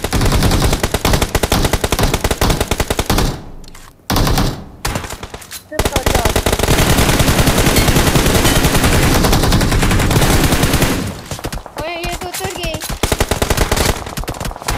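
Rapid automatic gunfire in a multiplayer shooter video game, dense bursts of machine-gun shots that pause briefly and resume, loud and close, with a voice speaking over part of it.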